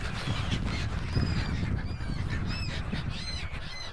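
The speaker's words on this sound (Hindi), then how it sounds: "देखा आपने कितने समझदार हैं ये पक्षी।" A flock of migrating birds at the Narmada ghats calls continuously in a dense, honking chorus, with individual goose-like calls rising over the steady crowd noise.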